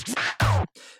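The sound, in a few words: vinyl scratch sample in a music production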